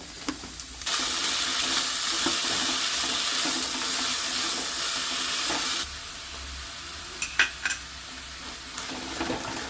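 Hot water is poured into a pot of vegetable stew with potatoes, carrots and green peas, a loud continuous rushing pour that runs for several seconds, then stops, followed by a few light clinks, with no talk.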